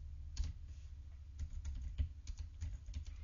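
Computer keyboard typing as text is entered into spreadsheet cells: a close, steady patter of key clicks at an uneven rhythm, heard alone with no talk.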